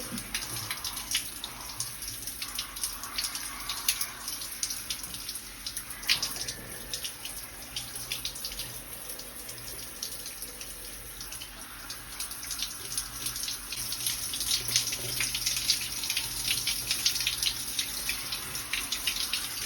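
Warm water runs steadily from a tap while hair is rinsed out after shampooing, a continuous hissing splash with irregular spatters and drips, close and constant throughout with no talking.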